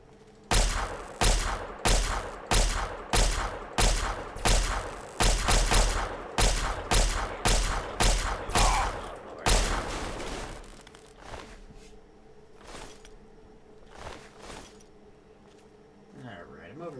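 Pistol shots from Fallout 3 fire in a fast, evenly spaced string of about sixteen sharp, loud cracks, then give way to quieter scattered clicks and thumps.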